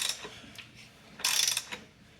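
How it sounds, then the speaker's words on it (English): A Nissan 300ZX engine is turned over by hand after a timing belt service, giving close ratcheting clicks and mechanical whirring in short bursts, with a louder stretch partway through. "We are now rotating the motor 2 times, 720 degrees."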